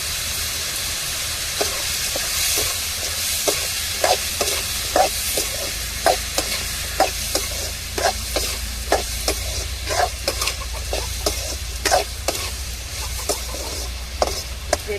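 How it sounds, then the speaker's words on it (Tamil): Onions and tomatoes sauté with rock salt in a pan, a steady loud sizzle with regular scraping stir strokes roughly every half second throughout. "வெங்காயமும் தக்காளியும் நல்லா வதங்கணும்"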